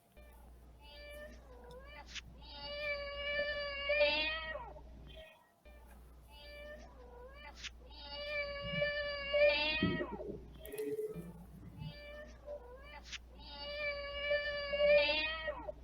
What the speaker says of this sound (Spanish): ¿podemos reproducir el maullido?